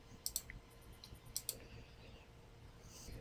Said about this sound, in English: We click our way through the installer.